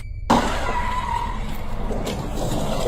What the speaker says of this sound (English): the only warning they had was the sound of the speeding tires